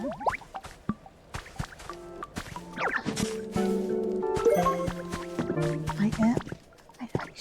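Plants being watered in the Pokémon game Pokopia, with bright dripping and splashing water effects and short musical chimes from the game, heard under a speaking voice.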